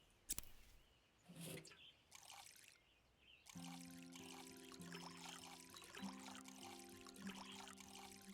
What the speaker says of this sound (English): This water sound effect is soothing.